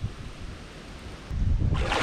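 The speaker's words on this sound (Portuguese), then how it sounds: "E desculpa o vento que hoje tá brabo." Strong wind buffets the microphone on a fishing trip, a low, rumbling roar that swells louder near the end, with no one speaking.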